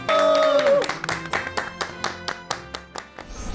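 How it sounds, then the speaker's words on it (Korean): A studio audience at a television talk show claps in time to welcome a guest, producing a regular beat of bright, loud claps. A short musical sting plays at the start. "박수로 맞아주시기 바랍니다"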